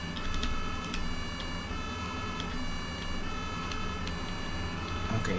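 An ambulance siren in the video game Emergency 112 wails continuously over a steady engine hum, with faint periodic ticking in the background.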